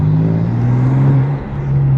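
A BMW F80 M3 fitted with stage 2+ turbos accelerates in Sport Plus mode, its engine note rising as a loud, close, steady drone for about two seconds, with no talking.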